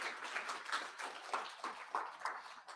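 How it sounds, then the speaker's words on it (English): Audience at a school Scrabble championship gives a round of applause, a fairly faint, thin scattering of clapping with a few distinct hand claps, no voices. "Round of applause."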